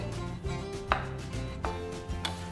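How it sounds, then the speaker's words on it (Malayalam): Boiled eggs sliced into small pieces on a board with a knife for a potato egg salad, giving sharp, regular chops about every half second over a low background hum. "ബാക്കിയുള്ള 5 മുട്ട നമുക്ക് ചെറുതായിട്ടൊന്ന് കട്ട് ചെയ്തെടുക്കാം"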